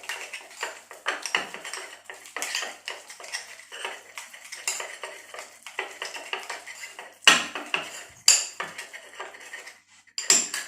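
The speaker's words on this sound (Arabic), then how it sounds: "نخلطو الخليط ديالنا بحال هكا" A spoon stirs a ricotta and spinach ravioli filling in a bowl, giving repeated close clinks and scrapes of metal against the bowl in an uneven rhythm with short pauses.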